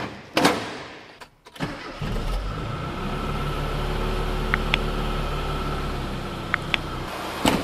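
A Mini's engine cranks and catches after a valve adjustment, then settles into a steady, even idle close by, with a couple of faint metallic ticks over the running engine.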